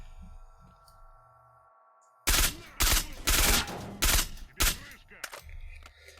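Gunfire in the S.T.A.L.K.E.R.: Shadow of Chernobyl video game, a quiet hum of game ambience and then a run of loud, sharp bursts of shots in quick succession, fading to softer echoes.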